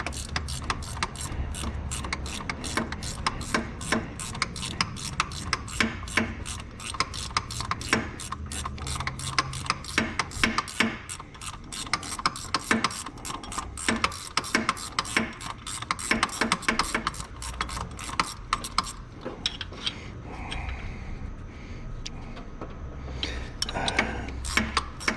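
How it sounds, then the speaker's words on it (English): A ratcheting wrench works a starter bolt loose on a 2015 Chevy Impala 3.6L, with a long run of rapid, steady pawl clicks up close that thins out near the end, and no voices. "Got the ratcheting wrench on there."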